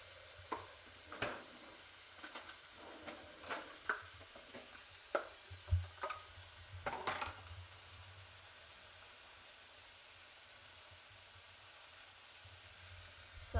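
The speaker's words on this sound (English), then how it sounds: "I'm going to add some butter to my mushrooms to make them cook nicely" Mushrooms frying in butter in a pan, a soft steady sizzle under scattered clinks and scrapes of stirring that fade out, leaving only a faint hiss.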